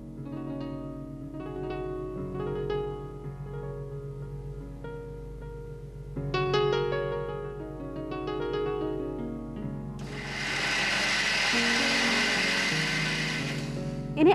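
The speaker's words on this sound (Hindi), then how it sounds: "इन्हें अच्छी तरह से ग्राइंड करें इनटू अ फाइन पेस्ट।" A mixer grinder whirs steadily and loudly as it grinds grated coconut, chili powder, turmeric, jeera, garlic and curry leaves into a fine masala paste. The whir starts partway through, over background music.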